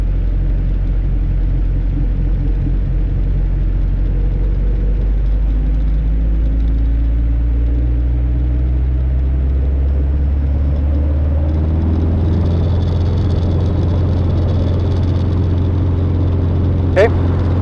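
A Robinson R22 helicopter engine spools up toward flight RPM, its loud, close droning rumble rising steadily in pitch over many seconds, with a brief sharp chirp near the end.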